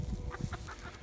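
Backyard farm chickens cluck softly in a short series of low, rhythmic calls, fairly close and quiet, with no talking over them.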